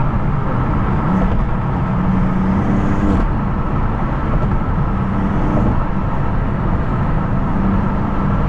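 A BMW M4 CS drives with a steady engine drone and turbo whoosh heard from inside the cabin, continuous and fairly loud, with a low whine rising briefly near the start.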